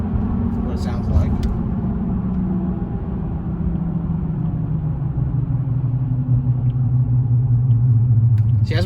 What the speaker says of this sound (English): I'll let you hear the decel as we slow down up here for this roundabout